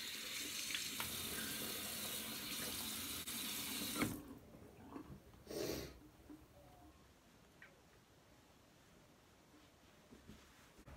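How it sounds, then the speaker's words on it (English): A bathroom tap runs in a steady close stream while a face is rinsed, then shuts off abruptly, leaving faint splashes and a short gush of water afterward. "So I'm just gonna rinse my face with water."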